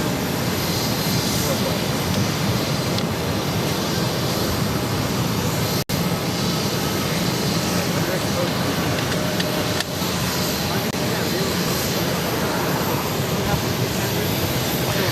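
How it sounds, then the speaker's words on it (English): A Hainan Airlines Boeing 787-9 Dreamliner taking off for Seattle, a steady, loud broadband engine roar that holds level throughout with no pauses. "This is Hainan Airlines Flight 730 taking off to Seattle on the 787-9 Dreamliner."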